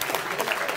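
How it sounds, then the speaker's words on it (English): Brief applause from an evening event audience at a US–India relations talk, a steady wash of clapping close by with no voices. "One last round of applause."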